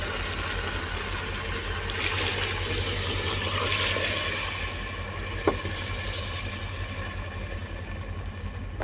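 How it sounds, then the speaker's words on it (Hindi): Water poured into frying lentils (dal) in a pot gives a steady, fairly loud broadband sizzle and hiss that lasts the whole stretch, with one sharp click midway and no talking. "दाल में पानी डाल दिया है"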